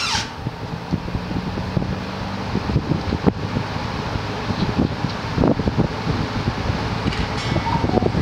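A vintage ILG electric fan with turbo blades runs after three years in storage. It gives a steady, airy whoosh with a faint rattle from the grill, close to the microphone, and no one speaks.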